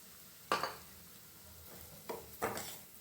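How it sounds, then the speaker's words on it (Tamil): Semolina roasting in melted ghee and oil in a pan, heard as a few faint, sharp scrapes and clinks of a spoon stirring against the metal, spaced apart over a quiet background. "ரவையை வந்து நல்லா வறுத்து எடுத்துக்கலாங்க."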